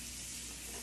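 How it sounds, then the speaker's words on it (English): Sliced carrots hit a hot pan of butter and oil, giving a loud, steady frying sizzle with bright hiss throughout, brief and without any voices. "Toss in the carrots."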